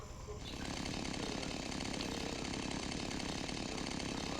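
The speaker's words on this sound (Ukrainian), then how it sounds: "Можна пиляти, дивіться, друзі, в нас є. З вами бензопила." A chainsaw in the farming game Farming PRO 3 starts up and keeps running with a steady, rasping buzz, fairly close and unbroken.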